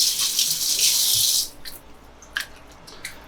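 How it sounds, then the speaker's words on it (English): Faucet water runs in a steady hissing stream as hands are rinsed at a kitchen sink, close and clear for about a second and a half before the tap shuts off, leaving a few faint drips and clinks. "So I'm just going to rinse my hands really quick."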